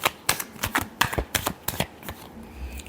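Tarot cards being shuffled by hand, a run of crisp riffling bursts in quick rhythm, close and fairly clear, fading out near the end.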